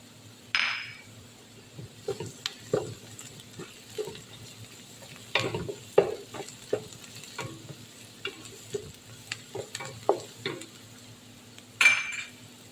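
Onions and garlic sauté quietly in a pot, with a low sizzle broken by a dozen or so scraping and clinking strokes of a spoon against the metal at uneven intervals.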